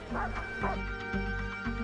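A police dog barks repeatedly in short bursts during an emergency-services incident, the barks close and fairly loud with a steady rhythm, mixed with background noise.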